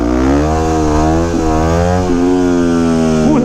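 A 2009 Yamaha WR250X supermoto single-cylinder engine revs hard and holds a steady high pitch during a wheelie, with brief dips as the throttle blips, loud and close throughout.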